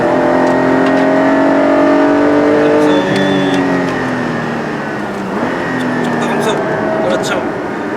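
Porsche car accelerating hard on a race circuit, its engine note climbing through the gears with loud, rising revs that dip and build again, while a driving instructor talks over it.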